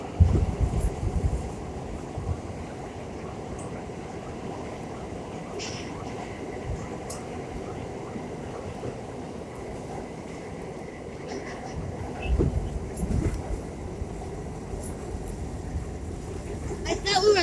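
A New York A subway train rides along, giving a steady low rumble and rattle of the moving car with occasional squeals and louder surges throughout.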